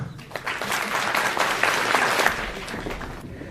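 An audience claps warmly for award winners in the painting category at an amateur visual arts review, a sustained round of applause that swells and then tapers off near the end.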